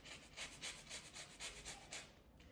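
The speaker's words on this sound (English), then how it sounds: "So I'm gonna use a zester." A handheld zester scraped over a lemon's peel, giving a soft, rhythmic rasping in steady strokes, close and fairly quiet, with no talk.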